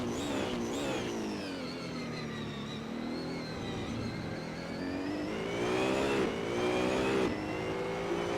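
A BMW Z4 GT4 race car in a racing video game pushes through a practice hot lap at Monza, its engine wailing loud and close as revs rise and fall through the gears.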